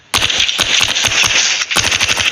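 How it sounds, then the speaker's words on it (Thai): Dingo gun firing in the Call of Duty Mobile video game, a loud, continuous rapid automatic burst of shots with a brief break near the end before it resumes. "เดี๋ยวเรามาดูการยิงครับ"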